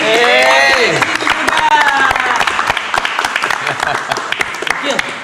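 Audience applause fills the room, loud at first and then thinning into scattered claps, with voices shouting and cheering over the top.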